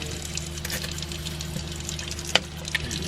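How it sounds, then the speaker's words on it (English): Water running steadily as a small syringe is filled for backflushing a water filter, a soft continuous trickle with a couple of faint clicks, close and quiet. "you fill this little syringe up"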